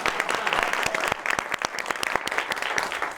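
An audience at a live comedy show breaks into brisk, dense applause, many hands clapping together at close range for a few seconds.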